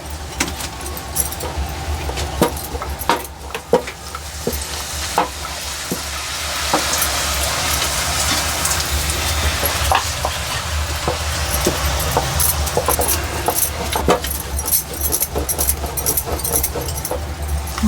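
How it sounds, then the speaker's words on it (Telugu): Savari snacks deep frying in hot oil give a steady sizzle and bubbling with scattered clinks, continuous and moderately loud throughout. "అన్నీ మనము ఇట్లనే డీప్ ఫ్రై చేసుకోవాలి మంచిగా చూడండి"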